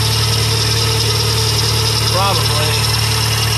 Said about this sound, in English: it definitely has an exhaust leak